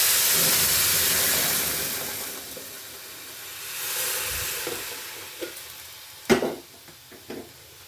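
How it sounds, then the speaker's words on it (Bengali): Hot water poured into fried rice in a pot, a loud burst of hissing sizzle and steam that fades away, followed by a few clanks and scrapes, no speech. "এটার মধ্যে এবার গরম জলটা দিয়ে দেবো"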